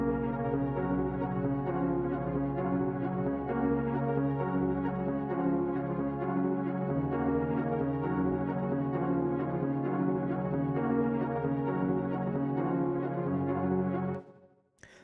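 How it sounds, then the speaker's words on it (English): An ambient beat loop built on the My Life key from the Blackout Sound Kit plays steadily, with sustained layered melodic tones over a low bass pulse, continuous and full before cutting off near the end. "And for this one, I used the key My Life from the Blackout Sound Kit."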